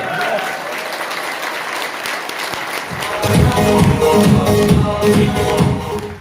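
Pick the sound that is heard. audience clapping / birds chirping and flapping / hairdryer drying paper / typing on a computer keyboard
audience clapping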